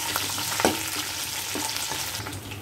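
Curry leaves crackle and sizzle in hot oil with garlic, cumin and green chilies for a Bangalore-style drumstick sambar, a dense close hiss running throughout with a few sharper pops and stirring scrapes.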